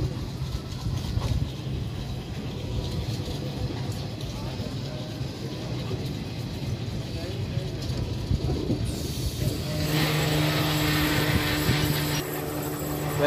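Inside the Doon Express passenger train while it runs: a continuous rumbling roar of wheels on track with faint rhythmic clatter, the noise brightening and growing harsher toward the end, steady and close throughout.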